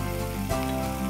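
Chopped carrots and other vegetables drop into a hot stir-fry pan, giving a steady close sizzle with a brief louder hiss as they land.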